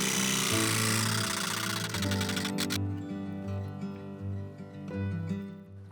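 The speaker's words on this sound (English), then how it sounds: "Now I can get this cut out using a jigsaw and a metal blade." A jigsaw fitted with a metal blade, running at its slowest setting, cuts sheet metal on an IKEA HELMER cabinet, buzzing and rattling close up before easing to a quieter hum.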